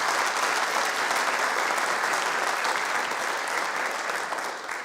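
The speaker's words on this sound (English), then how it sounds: "Can we give them another round of applause for that amazing performance?" Audience applause follows a dance performance at a city council meeting: steady, dense clapping from a full room that holds evenly and tapers slightly at the close.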